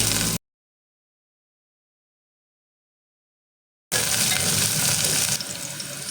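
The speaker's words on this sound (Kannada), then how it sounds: "ಸ್ವಲ್ಪ ಬೆಳ್ಳುಳ್ಳಿ ಹಾಕ್ಕೊಳ್ತಾ ಇದ್ದೀನಿ" Garlic, mustard seeds, cumin and curry leaves fry in hot oil with a loud, close, hissing sizzle, heard briefly at the start and then steadily after a long silent gap.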